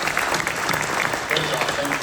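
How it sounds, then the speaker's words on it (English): Short burst of audience applause at a Republican candidate forum for Texas House District 41, a dense patter of clapping with a voice speaking over it. "Let's give Sergio a big round of applause for him."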